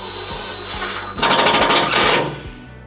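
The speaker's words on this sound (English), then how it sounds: "we're going to secure our ground wire with our provided self-tapping screw" A self-tapping screw is driven in to secure a ground wire while installing trailer wiring on a 2007 Chevrolet Colorado. A power driver whirs in a fast, rattling burst for about a second and a half, close and fairly loud, then winds down.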